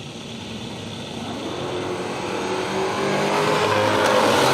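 A hatchback races down the Willowbank Raceway drag strip in Australia, its engine roar building steadily louder as it accelerates hard, with no voices.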